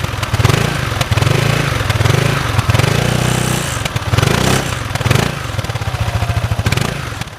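A Sym Maxsym 600 ABS maxi-scooter engine runs up close with a loud, steady throbbing drone that swells and eases in a few revving waves, with no talk over it.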